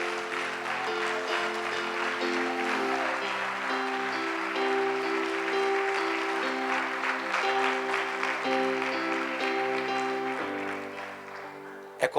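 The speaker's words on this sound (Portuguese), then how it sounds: "Vamos aplaudir, Ele é digno disso." Sustained applause from a church congregation during a sermon, steady and full throughout, with music or voices carrying tones underneath.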